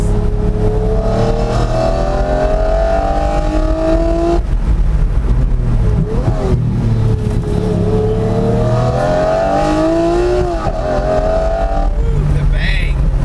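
A Lamborghini Murcielago SV and a Performante climb a mountain road in a race, their engines roaring loud and continuous, with rising and falling revs through gear changes.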